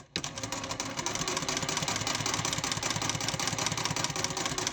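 A sewing machine stitching a fabric Christmas ornament runs in a fast, steady mechanical whir with a rapid repetitive needle clatter, starting abruptly and continuing close and even throughout.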